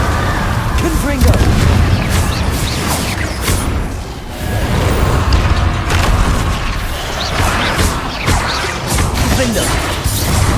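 Explosive Confringo spell blasts in the Hogwarts Legacy video game, loud booms and crashing bursts repeating through dense, continuous combat noise with whooshes and voices shouting over the action.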